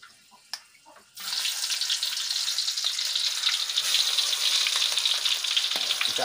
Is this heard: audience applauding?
no